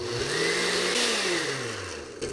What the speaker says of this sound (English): All I'm going to do is hit this blender one more time real quick